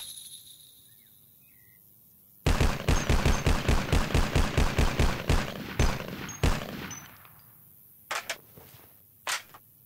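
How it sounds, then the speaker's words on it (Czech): Rifle fire in the Vietcong video game: a rapid burst of evenly spaced loud shots, then a few scattered single shots and short bursts with quiet gaps between, with no talking. "musíte střílet krátkýma dávkama nebo jednotlivýma výstřelama"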